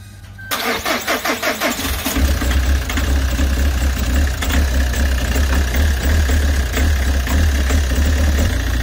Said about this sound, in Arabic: كيسخن الموتور ها يبدا يقبض روحها